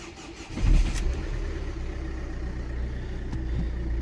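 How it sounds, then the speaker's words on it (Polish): A Ford car's engine cranks and fires in freezing weather, with a brief starter burst near the start that settles into a steady, fairly loud low idle rumble close by. "Tak sobie Fordzik odpala. Ważne, że odpala."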